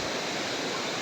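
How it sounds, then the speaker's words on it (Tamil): A waterfall in the Thirumoorthy hills gives a steady, full roar of falling water, a dense unbroken rush that fills the whole moment with no other sound standing out. "அருவி பாருங்க, தண்ணி எப்படி வருதுன்னு."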